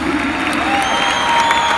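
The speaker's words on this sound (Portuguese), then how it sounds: "E pode aplaudir-se," A crowd at a religious congress applauds in a steady, continuous wash of clapping, loud and unbroken throughout, with a faint sustained tone underneath.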